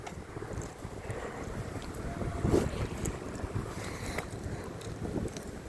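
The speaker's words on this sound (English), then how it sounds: "I feel the wind." Wind blows across an open suburban spot near the water in Mount Clemens, Michigan, as a soft, steady rumbling whoosh with a slightly stronger gust midway.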